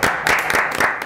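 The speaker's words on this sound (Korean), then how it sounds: "이분 많이 못해서 박수치네요" An audience claps in a short burst of scattered, rhythmic hand claps, fairly close and clear, with no talk over it.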